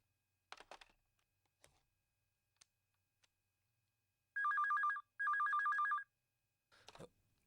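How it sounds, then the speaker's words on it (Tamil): An office telephone rings in two loud, close electronic bursts, each lasting about a second. A few scattered clicks and taps come first, and a soft rustle follows the rings. "உங்களுக்கு ஒரு ஃபோன் வந்திருக்கு"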